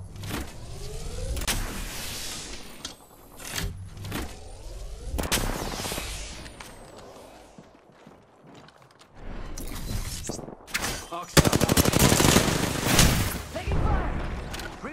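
Gunfire in the video game Apex Legends comes as repeated loud bursts and volleys over clattering game effects, with a player talking at times.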